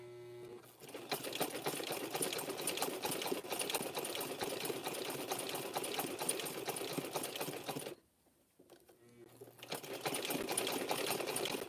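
A sewing machine stitches a rope chain, its steady running whir continuous for most of the span, stopping briefly near the end and then starting up again.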